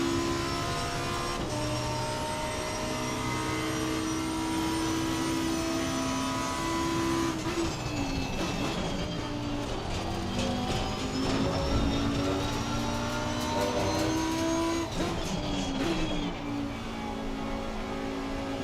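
Porsche race car engine running an outlap in a racing video game, a steady sustained drone with shifting pitch and rising revs, loud and continuous throughout.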